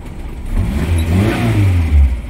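The engine of a 1987 Suzuki Carry minibus revs during a test, with a couple of close, loud, low-pitched surges over a running idle and no voices.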